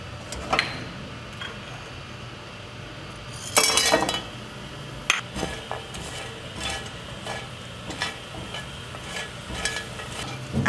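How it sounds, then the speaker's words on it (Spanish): Spices dry-browning in a hot pan for Veracruz-style mole, with scattered clinks of a spoon or utensil against the pan, a few louder scraping bursts and a faint sizzle underneath, no talking. "Voy a dorar por 2 minutos estas especies."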